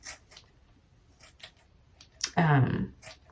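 Scissors cut through old micro-loc clip-in hair in a few faint snips followed by one louder, closer crunching cut near the end.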